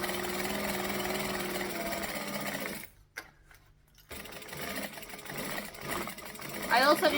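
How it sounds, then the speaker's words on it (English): A sewing machine runs steadily forward, stops for about a second, then whirs again for the back stitch, close and continuous with a light mechanical hum. "I'm going to stitch, and I'm going to back stitch"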